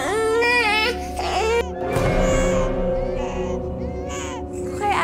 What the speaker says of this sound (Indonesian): Kok kayak ada suara bayi ya?